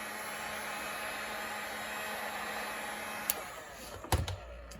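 A heat gun runs with a steady close whir while warming the adhesive of a graphic sticker on a CRF50 mini bike, ending in a few handling knocks, with no talk.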